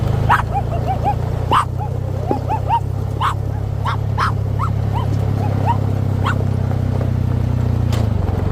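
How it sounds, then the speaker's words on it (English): A dog barks repeatedly at calves standing along a roadside on a trail, sharp yips and barks at a steady pace over a constant low engine rumble, close to the listener. "Bambi was doing her job barking at them calves standing along the side of the road."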